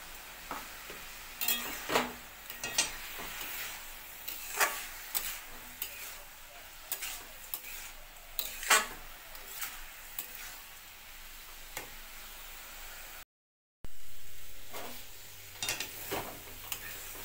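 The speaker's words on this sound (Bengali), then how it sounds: "এবার দিয়ে দেবো ভেজে রাখা মুগ ডাল।" Steady sizzling of fried mung dal in a pan with repeated scraping and clicking strokes of a spoon stirring, close and fairly quiet, broken by a brief silent gap.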